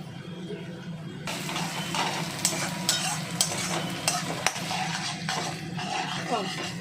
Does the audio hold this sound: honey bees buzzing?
no